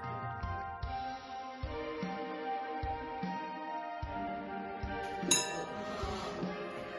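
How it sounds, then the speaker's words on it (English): A spoon stirring in a cup or glass at a church gathering, with light repeated clinks and rings at an uneven pace, then a brighter sharp ping near the end, close and quiet with no talking. "so I've got Seth stirring away there"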